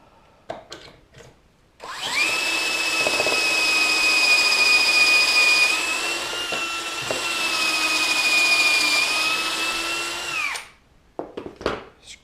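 A power drill driving screws into a closet organizer whirs loudly for about eight seconds with a steady high pitch that dips briefly in the middle, framed by clicks and handling noises.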